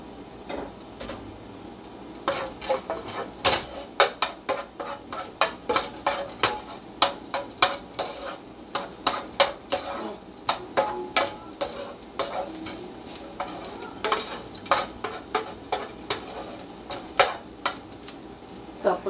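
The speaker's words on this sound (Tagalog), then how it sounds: "So, yung natitira pong mantika dito, gagamitin ko po siya sa paggisa ng garlic." Garlic sautéing in leftover beef steak oil, with a steady sizzle punctuated by many sharp clicks of a utensil against the pan, close and fairly loud, no talking.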